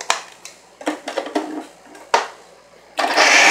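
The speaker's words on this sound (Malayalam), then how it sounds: "ഇനി നമുക്ക് ഇത് ഒന്നും കൂടെ അരച്ചെടുക്കാം." A mixer grinder pulses in short bursts on chicken roll filling, several quick grinding spurts separated by pauses, followed by a longer louder run at the end.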